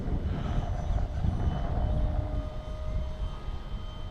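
Tech-One Neptune EDF wing model plane in flight, a steady whooshing ducted-fan roar with a thin whine, continuous and moderately distant throughout.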